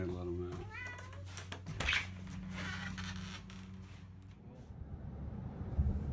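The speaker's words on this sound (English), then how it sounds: "the cat wants to go out" A domestic cat meows indoors at home, with a short rising cry near the start. People talk throughout, and household rustling and shuffling fill the background.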